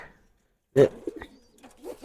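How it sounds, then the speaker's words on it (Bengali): A female pigeon coos close by in a short, soft throaty burst followed by quieter murmuring calls. "এই যে একটা কবুতর আছে একটা মাদি কবুতর"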